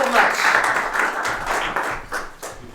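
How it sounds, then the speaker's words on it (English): Conference panel audience clapping while panelists take their seats, a moderate round of applause mixed with a speaking voice and some stage bustle. "can we have a round of applause while all the panelists get seated?"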